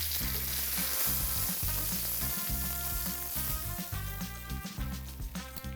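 Steak with butter, garlic and herbs sizzles loudly in a sloped-sided cast iron pan, a dense crackling fry punctuated by rhythmic clinks and scrapes of stirring or basting, with no talk.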